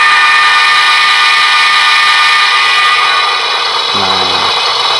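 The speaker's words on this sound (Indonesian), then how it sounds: "klakson lokomotif." A Roco Z21 DCC-controlled model locomotive sounds a loud sustained electronic horn tone, close and continuous through the clip, with a brief lower note near the end.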